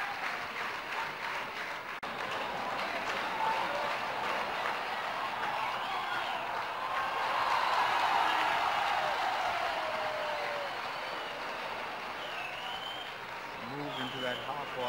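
Cricket crowd at a 1991-92 India v Pakistan one-day international applauding batsman Manjrekar, a steady broad wash of clapping that swells mid-clip and then eases, with commentary voices over the top.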